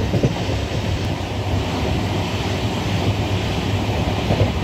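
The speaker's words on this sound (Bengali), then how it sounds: "ট্রেন বর্ধমান ঢুকলো" Shantiniketan Express running on the Bolpur to Howrah line near Bardhaman, heard as a steady, loud rolling rumble of the moving train throughout, with no voices.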